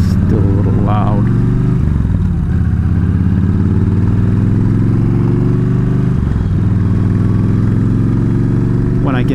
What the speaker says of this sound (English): I think one of my valves is a little off because it's still a little loud.